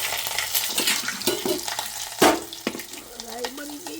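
Mustard seeds and chili crackling and sizzling in hot oil for a Gujarati tempering, a steady close frying hiss broken by sharp pops and a louder splutter midway, with faint stirring clinks.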